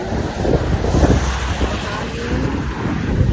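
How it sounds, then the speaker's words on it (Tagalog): Wind gusts steadily against the microphone on a gloomy, rainy day during a walk outdoors, a loud, continuous rushing roar with no break. "hangin."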